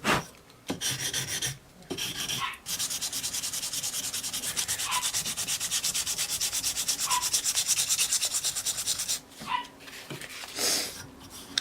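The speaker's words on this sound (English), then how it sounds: "And it's like super controlled sanding." Sandpaper wrapped around a file is driven across a wooden shotgun stock, long steady rasping strokes, close and loud, broken by short pauses, with a faint dog whimper in the background.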